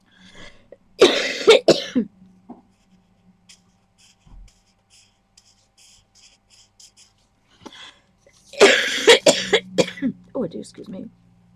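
Two bursts of harsh coughing, close to the microphone, separated by several seconds of near silence with faint tapping.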